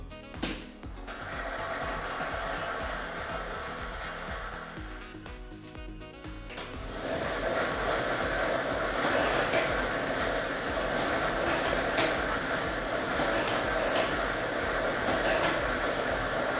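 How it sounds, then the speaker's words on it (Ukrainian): Lottery ball drawing machine switched on for a televised state lottery draw, a steady loud whirring roar with balls rattling and clicking inside, building after a few seconds and continuing throughout. "І ми вмикаємо лототрон"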